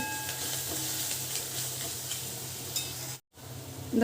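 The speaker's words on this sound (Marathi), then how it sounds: "चवीनुसार हिंग एक चमचा मीठ थोडंसं आपल्याला फ्राय करून घ्यायचे" Spices with asafoetida and salt frying in a pan for egg curry, a steady close sizzle with faint stirring scrapes, broken by a brief dropout near the end before the frying noise returns.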